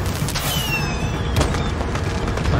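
Gunfire bursts from the Far Cry 6 video game, loud and dense, layered with explosions and continuous game noise through the whole stretch, no clear individual shots standing apart.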